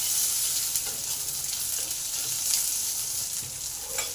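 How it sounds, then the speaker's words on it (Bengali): Chopped onions fry in hot oil with browned garlic, giving a continuous, even sizzle and crackle up close, with no voices. "পেঁয়াজগুলোকে একটু ভালো করে ভেজে নেব"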